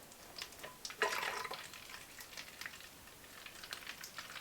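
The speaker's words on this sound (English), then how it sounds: "I also need to put water in my water bottle for when I walk" Water is poured into a water bottle inside a heated winter tent. A short, soft splashing burst is followed by faint trickles and drips against a quiet background.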